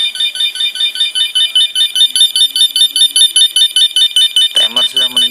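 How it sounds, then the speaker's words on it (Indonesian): A homemade countdown timer built on a circuit board sounds its alarm as time runs out: a loud, steady electronic beeping pulses rapidly throughout, with a person starting to talk near the end. "timer sudah menunjukkan waktu habis. Lalu kita lihat LED-nya berkedip dan ada alarm"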